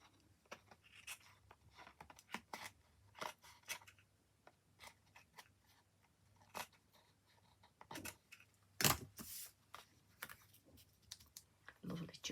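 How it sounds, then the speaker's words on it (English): Scissors snipping away overhanging bits of card on a handmade tag, a scattering of short, close crisp cuts and paper rustles, with one louder rustle partway through. "I'm going to turn it over and just cut off any bits that are hanging over there"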